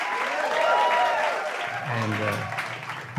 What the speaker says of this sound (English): I got applause for becoming a vegan today.